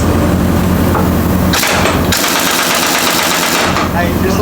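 An impact wrench hammers at bolts on a Volvo dual axle semi truck, loud rapid rattling bursts with short pauses between them, close by in a shop.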